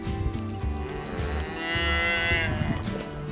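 A cow on a farm moos in a long, low, drawn-out call that rises and swells in the middle, loud and near, over faint background noise.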